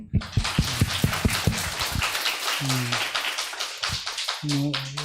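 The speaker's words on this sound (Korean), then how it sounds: "박수" Audience at a church Bible study session breaks into clapping: a few sharp, close individual claps at first, swelling into steady group applause, with a voice briefly speaking underneath.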